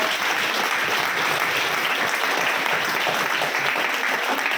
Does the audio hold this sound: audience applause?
yes